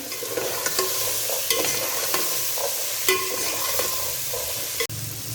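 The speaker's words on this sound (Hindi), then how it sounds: "1 मिनट के लिए हम करेंगे चने फ्राई।" Chickpeas fry in oil in a pan while a spoon stirs and scrapes through them, a continuous close sizzle punctuated by regular clinks and scrapes, with one sharp knock near the end.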